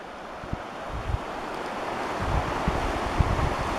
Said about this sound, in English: This is the Schoharie Creek. We're on a lookout at a high spot, and we can see that it's flooding.